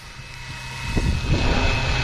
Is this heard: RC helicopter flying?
yes